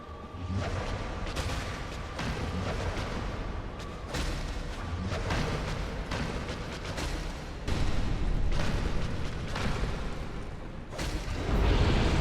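Booming blasts and heavy thuds from the spider lady boss fight in Dark Souls, repeated impacts landing every second or so over a dense game soundscape, with louder surges toward the end.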